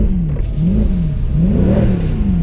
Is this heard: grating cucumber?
no